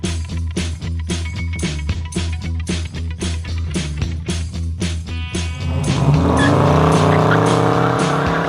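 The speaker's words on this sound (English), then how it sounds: "'72 Plymouth Road Runner." A 1972 Plymouth Road Runner V8 rumbles loudly with a steady, lumpy idle pulse, then revs up and pulls away with a rising engine roar and a hint of tire squeal.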